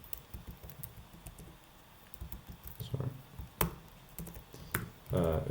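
Computer keyboard keys are pressed in small irregular bursts, Control and arrow key combinations clicking sharply and close up against quiet background, with a louder flurry of taps near the end.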